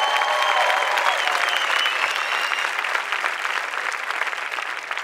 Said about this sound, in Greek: ένα τεράστιο χειροκρότημα για τον Μιχάλη που είναι πίσω.